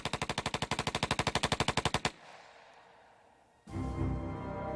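A machine gun fires a fast, evenly spaced burst of about twenty loud, close shots, then breaks off into a noisy lull before another louder rush of sound starts.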